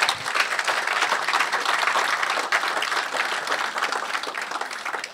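A church congregation applauding to acclaim God, steady dense clapping from many hands filling the room, sustained evenly and fairly loud for several seconds.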